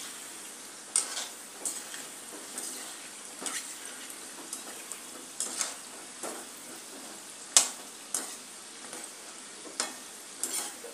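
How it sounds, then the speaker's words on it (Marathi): Bakarwadi frying in hot oil, a steady soft sizzle with occasional light ticks and stirring clinks, fairly quiet and with no voices. "अशा प्रकारे आपण तळून घेऊया"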